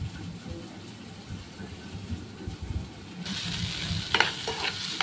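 Stuffed eggplants for gutti vankaya curry fry in a pan, making a low sizzling bubble. Partway through it turns into a brighter, louder hiss with clattering stirring sounds.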